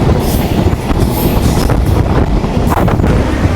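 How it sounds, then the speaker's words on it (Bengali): Mongla Commuter train running on rails at speed, a loud continuous rumble and rattle of the carriages with wheel clatter and wind roar close to the microphone. "রাইট নাও আমাদের মোংলা কমিউটার ট্রেনের স্পিড ঘন্টায় নাইনটি কিলোমিটার পার আওয়ার"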